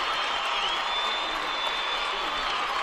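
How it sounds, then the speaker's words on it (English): Crowd at a high school state championship wrestling match in Meeker giving a standing ovation to a four-time state champion, a steady dense wash of applause and cheering throughout with no breaks. "And you see the standing ovation from the crowd saluting the 4-time state champion."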